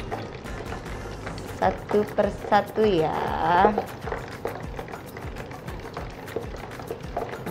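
Tempeh balls dropped into hot oil: a bubbling sizzle swells briefly as they go in, then settles to a light, steady crackle while someone talks over it.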